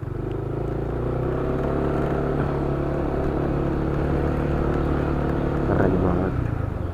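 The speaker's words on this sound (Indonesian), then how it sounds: "Jadi mobil motor masuk sih." Cars and motorcycles roll aboard a ferry at Kariangau port in Balikpapan, a steady mix of engine hum and low rumble at moderate distance with busy ambient noise throughout.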